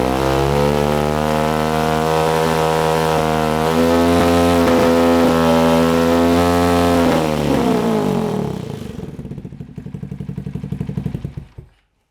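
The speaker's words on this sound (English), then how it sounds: "Let's rev the engine." A motorcycle with a modified exhaust baffle revs loudly up close, a rich, steady engine roar that climbs, holds, then drops away and fades out toward the end.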